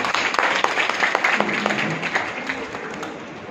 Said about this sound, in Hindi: आप सब अपने लिए तालियां बजाइए।